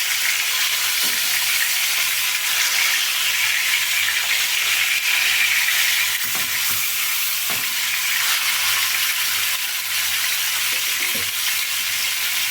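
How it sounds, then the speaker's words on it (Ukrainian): Steady, loud sizzling of meat frying in a pan, with occasional clicks and scrapes as it is stirred or turned. No voices. "Продовжуємо смажити."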